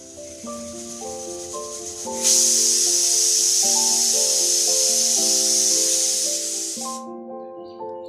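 A pressure cooker whistle shrieks steadily for several seconds, loud and hissing with released steam, then cuts off abruptly. Soft background music plays underneath throughout.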